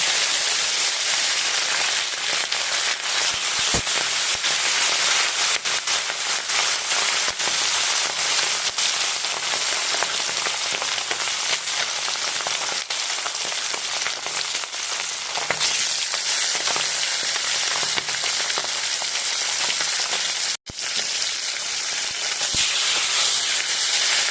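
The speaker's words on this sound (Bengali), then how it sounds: "তেলটা গরম হয়ে গেছে, মাছটা আমি ভেজে নেব" Bata fish frying in hot mustard oil, a loud, dense, continuous crackling sizzle with rapid spitting pops throughout, close up and unbroken for the whole stretch, no talking.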